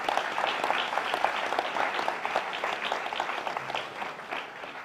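Audience at a credit union staff gathering applauding, dense continuous clapping from a roomful of people that stays steady and fades a little toward the end.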